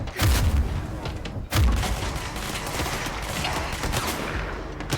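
Gunfire in the video game Control: two sharp, loud shots a little over a second apart, each followed by a dense crackling rumble of combat noise.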